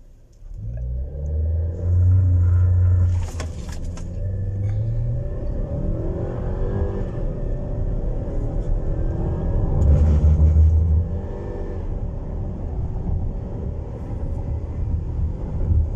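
A 2021 Changan CS95 with a 2.0-litre turbo engine accelerates during a speed test, a deep cabin rumble that swells with revving surges near the start and again midway, steady and close with no talking.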